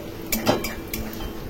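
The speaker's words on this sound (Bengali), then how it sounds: "মাছের ডিমের সাথে ভেন্ডি, পেঁয়াজ এবং উচ্ছে ভালো করে নেড়ে নেড়ে ভেজে নেব" Fish roe with okra, onion and bitter gourd is stirred in a frying pan, with a few sharp metallic clinks and scrapes of the utensil against the pan over a faint background.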